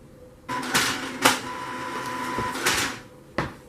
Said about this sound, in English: my printer is making so much noise